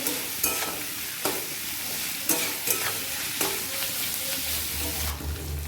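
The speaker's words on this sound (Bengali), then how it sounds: "এক চামচ নুন দিয়ে দিচ্ছি ভালো করে নেড়ে ছেড়ে দেবো" Bottle gourd peel fries in a pan with salt, a steady close sizzle broken by several sharp scrapes and knocks of a spoon stirring, with a low rumble coming in near the end.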